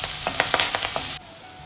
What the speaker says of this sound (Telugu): ఇప్పుడు ఇవంతా పోపు కూడా ఎర్రగా వేయించుకోవాలండి